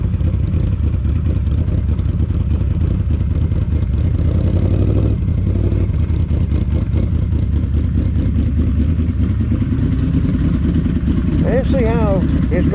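A Yamaha V-Max motorcycle being ridden and shifted down through the gears, its engine running in a steady loud drone with mechanical clatter and a voice talking over it.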